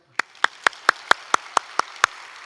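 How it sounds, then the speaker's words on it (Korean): A church congregation claps during a sermon at a Cheonan evangelism rally: nine sharp, close claps land in an even, quick rhythm, clean and distinct against a quiet room. "박수 한번 칠까요?"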